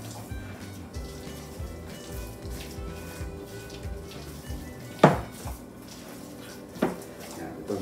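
Pinangat mixture with calamansi juice is stirred in a pot, soft clinks and scrapes of a utensil on cookware with two sharper knocks, quiet and close amid low room noise.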